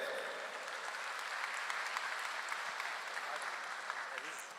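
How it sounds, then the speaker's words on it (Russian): Crowd applause at an Iftar gathering of the Lezgin community during a prize announcement, sustained, even clapping from many hands at moderate distance, with faint voices mixed underneath. "Под ваши аплодисменты"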